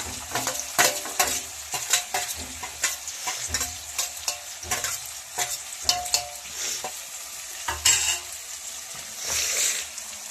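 Curry leaves crackle and sizzle in hot oil for a capsicum rice dish, a dense, continuous frying hiss punctuated by sharp pops and stirring clatter, close and steady throughout with no talking.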